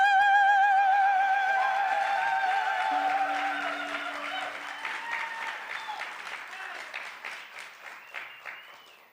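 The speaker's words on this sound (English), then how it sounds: "Now can we have a big, loud, wake up our bodies in the room applause" Audience applause at a theater event starts behind a fading sustained tone, then grows into a lively clatter of many hands that carries through to the end.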